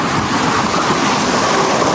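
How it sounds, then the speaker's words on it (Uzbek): Strong sea waves pounding a beach, a loud continuous roar of surf with wind buffeting the microphone throughout, no voices. "To'lqin juda ham kuchli o'rtoqlar."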